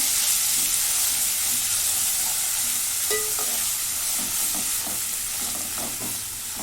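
A ground masala paste of ginger, garlic, coconut, onion and a little coriander is roasted with curd in a pan on the stove, giving a steady loud sizzle and hiss with soft scraping stirs throughout.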